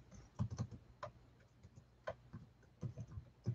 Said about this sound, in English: I'm gonna type in here